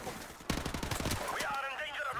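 MP5K submachine gun fire in Modern Warfare Remastered, a quick rattling burst of rapid shots followed by a voice talking over fading game sound.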